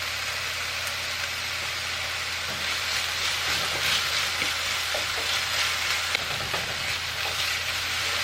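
Onions and garlic sautéing in olive oil over medium heat, a continuous even sizzle with faint occasional stirring clicks, steady and close with no voices.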